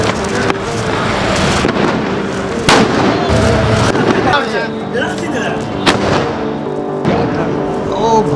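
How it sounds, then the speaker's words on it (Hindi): Firecrackers exploding at a Diwali celebration in Patna, a dense, loud barrage of sharp bangs and crackles with several big booms, continuous over a crowd murmur and voices. "प्लेस जहाँ पे थोड़े से पटाखे जलाए जा रहे हैं यार"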